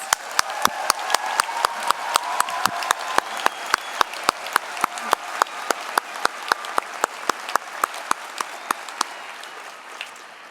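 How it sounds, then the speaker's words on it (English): Applause for graduates at a McMaster University convocation, a broad crowd clapping over which one nearby pair of hands beats a sharp, steady rhythm, roughly three claps per second. "Let's give one more round of applause for our graduates."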